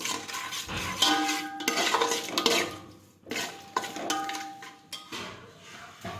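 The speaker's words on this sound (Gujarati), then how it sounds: "લીંબુનો રસ નાખીશું, હવે બધા મસાલા છે તે મિક્સ કરી દઈશું." A spoon scrapes and clinks against a pot while lemon juice and spices are mixed into a Gujarati dry potato dish, with rhythmic stirring strokes, a faint sizzle underneath and short pauses between rounds.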